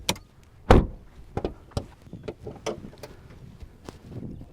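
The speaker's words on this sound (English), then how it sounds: "let's pop that hood" Hood of a 2021 Cadillac CT4 released with a sharp latch thunk followed by a series of light clicks and taps.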